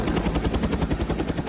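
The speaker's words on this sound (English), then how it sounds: "Authorities in Thailand are using helicopters to evacuate critically ill patients from a hospital in Hat Yai" A helicopter evacuating critically ill patients from a flooded hospital in Hat Yai, Thailand, thuds with loud, close, rapid rhythmic rotor beats that throb steadily throughout.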